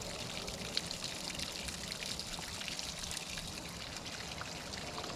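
Water runs from a hose in a steady, faint splashing stream with small trickling spatters, continuous and without voices.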